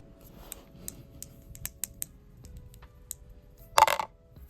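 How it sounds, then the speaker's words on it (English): Pink and purple dice rolled into a container make a run of sharp, scattered clicks, then a louder rattling clatter near the end as they tumble and settle. "I grabbed a container to roll the dice into"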